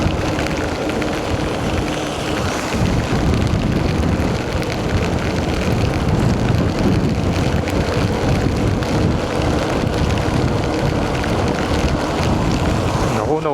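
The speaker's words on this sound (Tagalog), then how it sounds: "ang lakas ng ulan" Heavy monsoon rain pours steadily during a short ride along the Gapan-Olongapo Road, a loud, dense, unbroken wash of noise that holds for the whole stretch with no voices.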